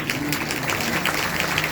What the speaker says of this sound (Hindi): ताली बजा प्यार से।